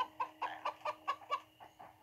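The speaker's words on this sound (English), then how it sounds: "Chicken." Chickens clucking in the Minecraft: Story Mode video game, a quick series of about eight short rhythmic clucks, faint and fairly close, with no talking over them.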